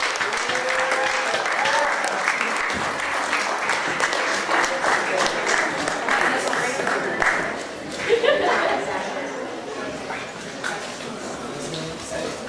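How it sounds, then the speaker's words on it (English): Sustained applause from a crowd at a fundraiser, dense clapping throughout with scattered voices and chatter mixed in. "please give him a round of applause for Austin Reynolds."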